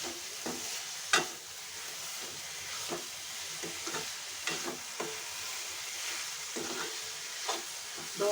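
Sprouted moth beans (matki) sautéing in a pan, with soft steady sizzling and a few scattered spoon scrapes and clicks at a fairly low level, no voices.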